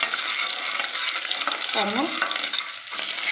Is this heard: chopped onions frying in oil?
yes